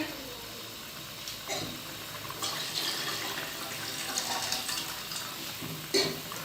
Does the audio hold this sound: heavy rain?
no